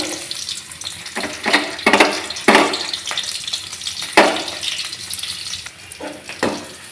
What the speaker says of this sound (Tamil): எண்ணெய் சூடாகிடுச்சு நச்சு வச்ச பூண்டு பல் போட்டுக்கலாம்